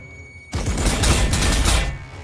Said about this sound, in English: all Terminators then are shooting the one Soul Grinder there as well